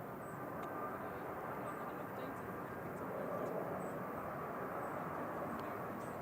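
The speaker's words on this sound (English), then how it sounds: "This is Ryanair touching down from Alicante" Ryanair airliner arriving from Alicante, touching down at Manchester Airport: a steady distant jet roar holds throughout at moderate level, with faint voices nearby.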